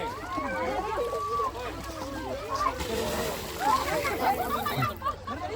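Water splashing and sloshing at an elephant bathing spot, a steady continuous wash of splashes with people talking over it throughout.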